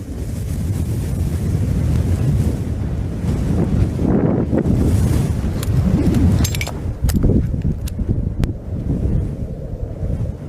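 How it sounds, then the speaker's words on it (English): Wind blowing steadily across the sparse Jampir desert in Pakistan, buffeting the microphone with a loud, continuous low roar that surges and eases throughout, no voices. "The most abundant resource here is the wind."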